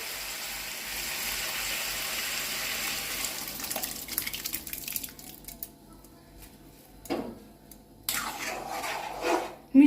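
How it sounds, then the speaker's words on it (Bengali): Boiled lentils poured into fried vegetables in a pan for veg dal, a wet slosh and squelch with scraping utensil and pot clatter, a steady close sound with a few sharper knocks, no talking. "এখন এর মধ্যে সিদ্ধ করে রাখা ডালটা ঢেলে দিচ্ছি।"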